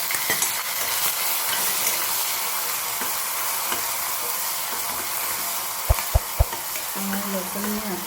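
Mustard seeds, cumin and onion sizzle steadily in hot oil during a tempering, with stirring and a few sharp utensil knocks on the pan near the end.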